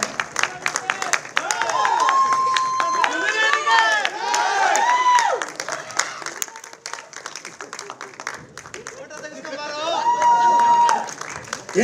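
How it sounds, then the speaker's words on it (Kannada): Loud audience applause fills an award ceremony hall, sustained clapping with cheers and whistles rising and falling in waves, then a second burst near the end, with voices over the crowd. "ಚಿತ್ರಕ್ಕೆ ದಯವಿಟ್ಟು ಜೋರಾದ ಚಪ್ಪಾಳೆ ಮೂಲಕ ಎನ್ಕರೇಜ್ ಮಾಡಬೇಕು ಅಂತ ಕೇಳ್ಕೊಳ್ತಾ ಇದ್ದೀವಿ"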